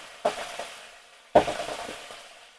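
Borali fish frying with salt in a pan, sizzling in two sharp bursts as pieces hit the hot oil, each fading into a softer crackling hiss.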